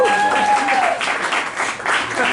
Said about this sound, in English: Let's give Evelyn another round of applause.